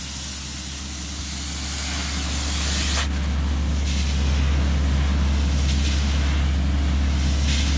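A compressed-air blade with a thin slit blows dust out of wool, producing a loud, continuous close-up hiss with a deep steady rumble beneath and a brief sharp burst partway through.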